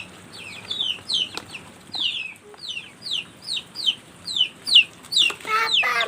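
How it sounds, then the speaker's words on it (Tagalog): Chicken clucks in a steady run of about ten short calls, moderately close and fairly loud, rising toward the end with a brief rustle or flutter near the close; no talk. "manok!"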